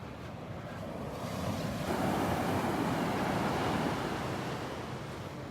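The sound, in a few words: Gulf of Mexico waves on the beach at Naples, Florida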